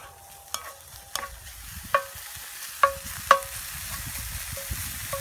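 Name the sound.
stirring french fries frying in grease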